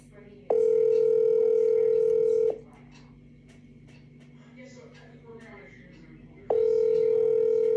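A telephone dial tone from a call being placed sounds as a steady, loud hum for two seconds, breaks off to quiet line noise, then returns. Speech is heard faintly underneath.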